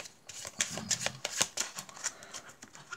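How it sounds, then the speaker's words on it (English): Playing cards riffle and flutter in quick rapid bursts, a crisp papery shuffling close by, with a few soft taps between. "We will give the cards a bit of a shuffle."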